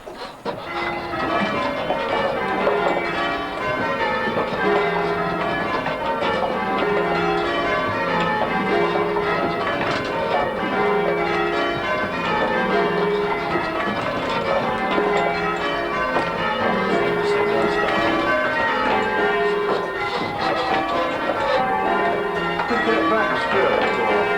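Visiting ringers change-ring English church bells in a loud, continuous cascade of overlapping tolls, struck in steady repeating sequences.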